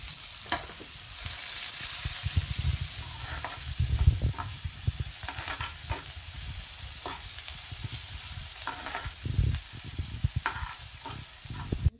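Onion and garlic sizzle steadily in a hot pan, a constant crackling fry broken by occasional stirring scrapes, close and moderately loud with no talking.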